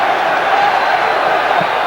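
A football stadium crowd at Lyon's UEFA Cup match against Nottingham Forest roars steadily as a free kick is lined up. The noise is a loud, unbroken wash with no distinct peaks.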